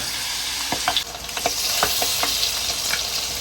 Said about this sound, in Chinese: 有时候把这个蛋给炸一下